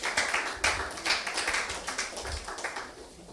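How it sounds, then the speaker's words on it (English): A live audience claps together at a monthly gathering, a brisk run of overlapping hand claps that holds steady at moderate loudness and slowly thins out toward the end. "Come on, a round of applause for yourself for listening."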